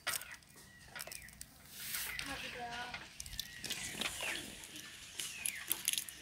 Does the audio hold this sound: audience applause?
no